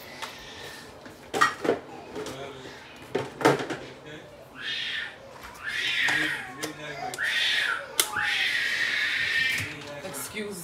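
A teething eight-month-old baby screams and wails in a crib in repeated high-pitched bursts from a distance, mixed with sharp clinks and clatter of dishes nearby in a kitchen.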